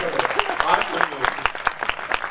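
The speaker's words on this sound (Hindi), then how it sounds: "एक बार तालियां बजाइए" Audience clapping at a kavi sammelan poetry gathering in Gohana, heard as rhythmic, fairly even claps in a loose beat over a short stretch, close and moderately loud.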